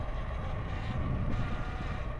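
Steady wind roar buffets a helmet-mounted microphone while riding a motorcycle, a constant, dense rushing noise with a low engine drone underneath and no talking.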